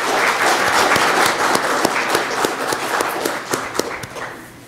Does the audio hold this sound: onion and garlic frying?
no